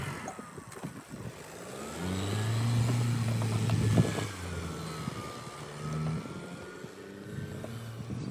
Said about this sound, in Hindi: ये गाड़ी हमारी बिल्कुल आराम से निकल गई है